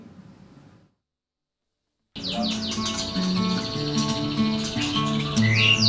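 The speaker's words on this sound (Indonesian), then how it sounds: "cara berkicau dari burung murai batu juga menjadi nilai tambah bagi penggemarnya" A white-rumped shama (murai batu) sings a rich, varied stream of clear whistled phrases and rapid trills, close and loud, starting after a brief silence and continuing unbroken.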